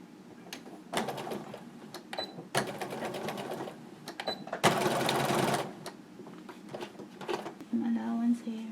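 Sewing machine stitching a fabric scrub cap, running in short close bursts with one longer loud run, and a quick mechanical clatter between bursts while someone talks.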